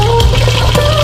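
Water pours steadily from a tap into a pot for boiling ingredients for dinakdakan, a loud, close, continuous gushing with no voices.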